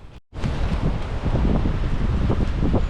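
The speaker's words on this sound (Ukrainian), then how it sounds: "але вітер просто капець" Strong spring wind in the woods roars and buffets the microphone in a continuous, rumbling rush after a brief moment of near silence at the start.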